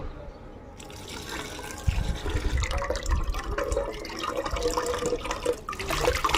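Liquid compost fertilizer made from tea leaves soaked four days in water is strained, giving a soft trickling and splashing of liquid that grows louder partway through, with small clinks.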